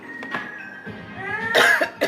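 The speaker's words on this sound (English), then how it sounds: "Don't cough over your food if you're serving it." A single sharp cough bursts out near the end, preceded by soft background sounds and a faint tonal hum.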